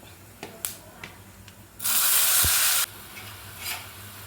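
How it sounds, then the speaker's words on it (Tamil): Chopped tomatoes land in a hot pan over mustard-seed tempering for Tamil-style tomato thokku, a loud burst of sizzling hiss lasting about a second, framed by light stirring taps and a quieter frying crackle afterward. "தக்காளியை போட்டு 1 செகண்டு நல்லா வதக்கிட்டேன்"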